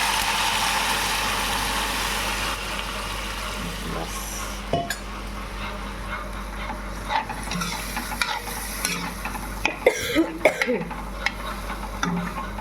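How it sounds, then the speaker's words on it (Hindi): Potato curry gravy being stirred in a pan, with a steady frying sizzle and a run of scraping, clinking spoon strokes against the pan that grow busier toward the end. "अच्छे से आलू भुज गई है, और मैं यहाँ पे हल्की सी ग्रेवी कर देती हूँ।"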